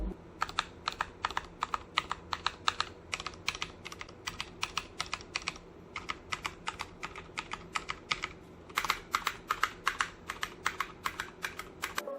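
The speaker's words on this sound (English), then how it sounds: "The stock switches that it comes with is very much like Cherry MX Red. They're pingy and scratchy" An Epomaker Ajazz K620T keyboard with stock linear switches clacks under steady typing, close and crisp, in continuous bursts of keystrokes with brief pauses and slightly scratchy, pingy key sounds.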